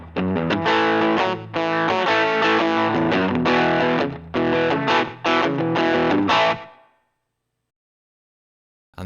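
A distorted rhythm electric guitar tone from a Line 6 HX Stomp, playing loud, crunchy chords in choppy bursts with brief gaps, then letting the last chord ring out and fade into silence.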